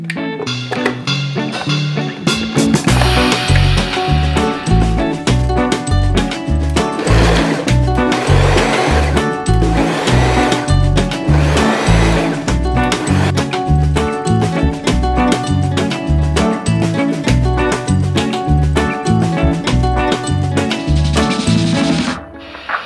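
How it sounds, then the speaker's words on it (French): A food chopper coarsely chopping courgettes and peppers runs loud and close in quick repeated bursts, a pulsing motor whir with rattling pieces that keeps going almost the whole time before cutting off at the end. "je les mets dans mon hachoir. Et puis, on va donner 2-3 petits tours pour que ça soit haché un peu grossièrement."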